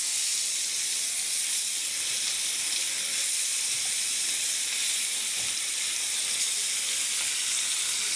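Bata fish fry in hot oil in a pan, a loud, continuous sizzling hiss close up, even and unbroken throughout with no voices.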